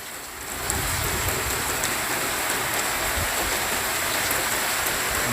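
Heavy rain with strong wind in a village: a dense, loud downpour roars steadily from start to finish, with no voices.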